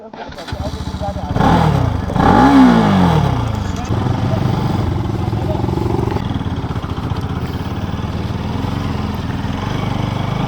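A Bajaj Pulsar RS 200 motorcycle rides along during a Distinguished Gentleman's Ride in Bhutan, its engine revving up sharply and then settling into a steady, loud running drone close by.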